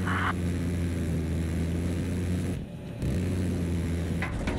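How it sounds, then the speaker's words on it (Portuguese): An enemy helicopter in the video game Battlefield 4 drones with a steady, low rotor-and-engine hum that runs almost unbroken, dipping briefly in the middle before returning at full strength. "tô vendo um helicóptero inimigo"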